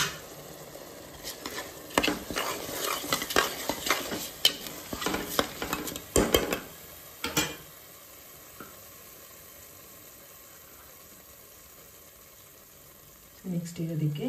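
Moong dal with salt is stirred in a pot, giving close bursts of scraping and rattling from a spoon for several seconds, then a long quiet stretch before a brief clatter returns.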